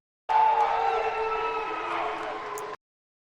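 Arena crowd at a UFC event booing fighter Raquel Pennington, a sustained loud roar of jeers heard from within the crowd, steady and continuous.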